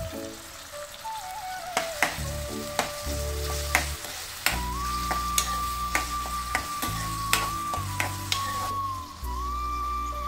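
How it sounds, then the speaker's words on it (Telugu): Green chilies, onion and tomato sizzle and fry in hot oil in a pan for a South Indian meal, a steady crackling hiss broken by regular taps of a stirring spoon, with faint music underneath. "ఇదిగోండి, ఆయిల్ హీట్ అయింది. పచ్చిమిర్చి, ఆనియన్, టమోటా అన్నీ వేసేస్తున్నాను."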